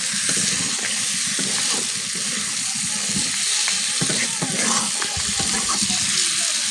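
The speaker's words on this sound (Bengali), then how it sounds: "এগুলোকে ভালো করে কষে না দিলে এই যে চিংড়ি মাছের মধ্যে মশলাটা ঢুকবে না একদম, ওই জন্য 5 মিনিটের মতো একদম কষে নিব।" Prawns with spices and masala sautéing in a pan for a potato-prawn curry, a dense continuous sizzle and hiss with scattered scraping stirs, close and loud throughout with no talking.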